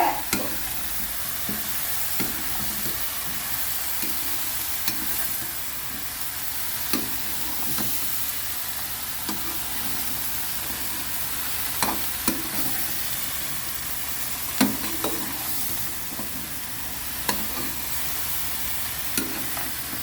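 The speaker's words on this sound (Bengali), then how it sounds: "এখন ভালোভাবে উল্টিয়ে পাল্টিয়ে কষিয়ে নিচ্ছি সবজিগুলি।" Mixed vegetables are stir-fried with spices in a pan, a steady hissing sizzle broken by repeated scraping and clacking strokes as they are turned over and over, close and without speech.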